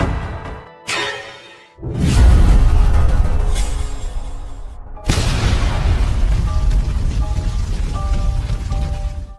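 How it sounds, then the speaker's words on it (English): A heavy, booming blast erupts with a deep rumble, followed by a sustained roar of debris and noise that lingers loudly for several seconds. "A violent explosion gives Zirin a headache"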